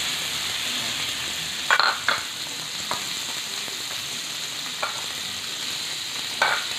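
Fish and tomato fry in a pan with a steady, close sizzle, broken by a few sharp clinks and scrapes of a utensil stirring.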